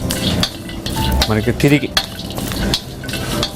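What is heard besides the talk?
stirring capsicum methi curry in a pan on the stove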